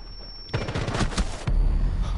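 Rapid automatic gunfire in Rainbow Six, a loud close burst of many shots lasting about a second, followed by a heavy low rumble.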